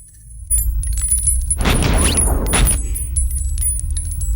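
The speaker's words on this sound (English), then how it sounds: "shells bouncing off marble" Bullet shells from The Matrix bounce off a marble floor, a bright metallic clatter of several clinks and rattles that bursts in mid-clip over a low rumbling bed, then rings out and fades.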